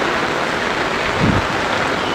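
Heavy monsoon rain pouring down in Khed in the Konkan region near the bus station, a dense, steady, loud roar of falling water with no break.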